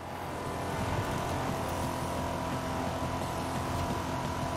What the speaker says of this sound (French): on entend un peu le moteur.